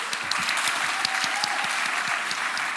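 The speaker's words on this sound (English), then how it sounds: "The claps, the applause have been dead." Steady audience applause at a law society symposium, many hands clapping together in a dense, continuous patter that fills the room without pause.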